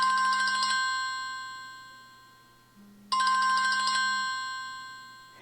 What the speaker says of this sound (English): Phone rings, you answer it,